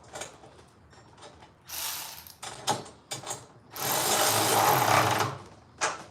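Bolts are tightened during assembly of a Kushlan KPRO 350MP wheelbarrow cement mixer, with bursts of ratcheting clicks in uneven spurts, the longest and loudest run near the end, separated by quiet gaps.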